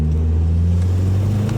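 A Mazdaspeed 3 accelerating in third gear gives a steady, loud low engine drone with a constant tone throughout a short stretch, heard from inside the car with no talk.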